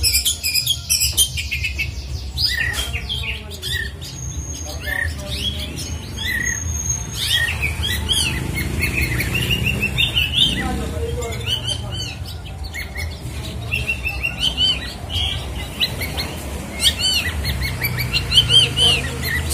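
An oriental magpie-robin, a kacer recovering after its moult, sings loudly and close while being set out in the sun. A continuous stream of varied chirps, whistles and harsh squawky notes runs throughout, with no talk.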